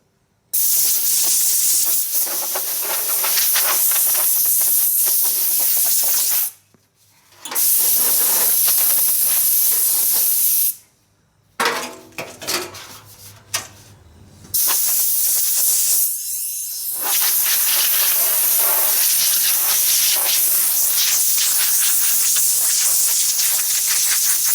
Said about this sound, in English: I'm just taking some compressed air. I'm gonna blow off the excess dust.